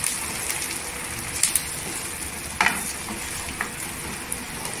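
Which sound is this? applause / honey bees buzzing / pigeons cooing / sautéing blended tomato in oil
sautéing blended tomato in oil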